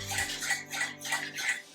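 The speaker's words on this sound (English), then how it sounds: "So stir it together." Eggs and sesame oil are stirred together in a bowl, giving four or five quick, rhythmic swishing strokes with faint clinks of utensil against the bowl, soft and close, with no talking.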